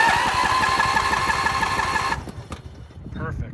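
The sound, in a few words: Bolens riding mower engine cranking with new starter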